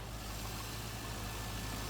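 A Corvette engine idles steadily while warming up after a water pump replacement, with fresh coolant just added. It gives a quiet, even low hum with no revving, and no one speaks.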